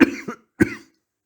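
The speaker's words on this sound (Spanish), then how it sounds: "¿Hace mucho tiempo que tiene usted esa tos?" Coughing from a narrator reading a Spanish audiobook of Poe's The Cask of Amontillado, two dry, close coughs in quick succession followed by silence.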